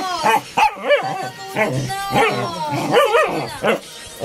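A dog close by gives a series of short, sharp barks and yips in quick irregular bursts, some ending in a whine. No one speaks.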